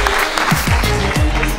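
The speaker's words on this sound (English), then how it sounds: "So let's give them another round of applause." Audience applause at Buffer Festival 2018, a dense, loud wash of clapping from a crowd that fills the whole stretch steadily.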